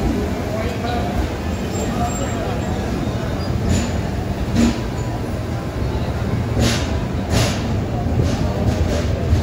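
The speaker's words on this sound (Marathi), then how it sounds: "चला ट्रेन पण चालू झाली आहे" A passenger train pulls away and keeps running, with a steady loud rumble and clatter of rolling carriages heard from inside throughout, punctuated by a few brief sharper rattles.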